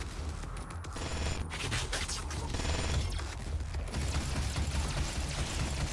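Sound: pistol gunfire in DOOM video game

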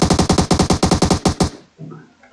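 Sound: gunshots in the video game PUBG Mobile

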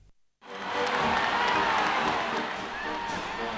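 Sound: stadium crowd ovation at Atlanta Olympics opening ceremony

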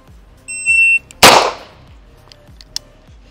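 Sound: handgun shots during shooting drill

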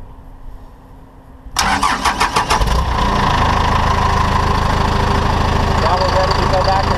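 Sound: diesel engine starting

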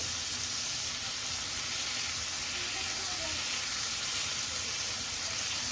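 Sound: kebab frying in a pan

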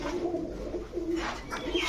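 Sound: Indian Kakji pigeon chicks cooing

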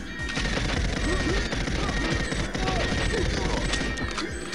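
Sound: gunfire from big guns in GoldenEye 007 Mario 64 mod video game

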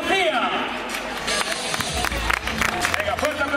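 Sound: applause for the race winners

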